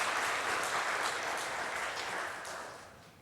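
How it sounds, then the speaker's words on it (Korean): A church congregation claps in welcome for a newcomer during a Sunday worship service, a warm burst of steady applause that gradually tapers off over about three seconds. "이분 우리 환영의 박수 부탁합니다"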